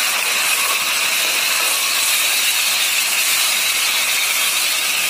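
A masala of onion and coconut paste fries in a pan for a fish curry, giving a loud, steady, unbroken sizzling hiss from start to finish with no voices.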